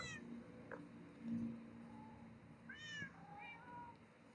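Several soft Minecraft cat meows sound over a steady background hiss and hum of rain, with short drawn-out calls spaced across the clip.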